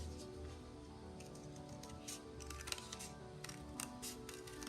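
Scissors cutting cardboard to shape a recycled face mask, a series of small crisp snips and crunches, close and fairly soft, with no talking.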